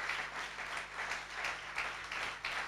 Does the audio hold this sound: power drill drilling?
no